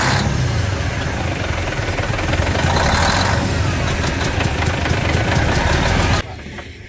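A diesel car engine cranks and runs loudly and roughly with a knocking idle, the noise close and steady for several seconds before dropping away abruptly near the end.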